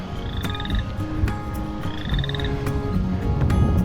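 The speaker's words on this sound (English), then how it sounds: "Lots of froggy noises in there." Frogs croak steadily in a marsh beside a tree line, a dense chorus with repeated trilling calls rising above a continuous rumbling background, fairly near and constant throughout.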